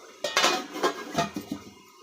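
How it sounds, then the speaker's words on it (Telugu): A lid set onto a pot of meal maker tomato curry, clattering metal-on-metal with a few sharp clinks and rattles as it settles, close and moderately loud with no talk. "ఇప్పుడు ఒక 1 మినిట్ మూత పెట్టి మగ్గించుకుందాం."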